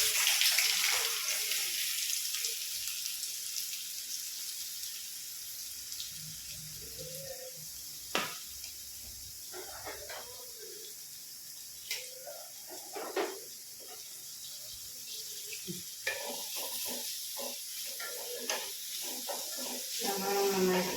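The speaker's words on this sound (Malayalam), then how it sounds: "നമുക്ക് സവാള ഇടാം." Chopped onions hitting hot oil for a beef curry gravy make a steady hiss and crackle throughout, with occasional sharper clinks and stirring knocks standing out.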